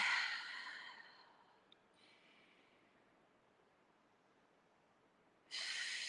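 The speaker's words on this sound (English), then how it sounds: "Breathe into the ribs" A slow breath out fades away during a tai chi class, followed by quiet and then a sudden breathy inhale near the end, close and soft.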